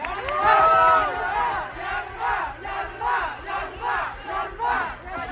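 A crowd cheers and shouts in rhythmic bursts at a Beyblade X tournament, a loud chorus of many voices rising and falling together.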